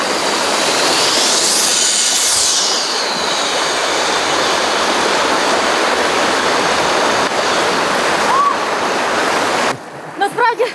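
Shypit waterfall in the Ukrainian mountains, a loud, steady roar of falling water filling the whole clip at close range, with a brief whistle-like sound and a few knocks near the end.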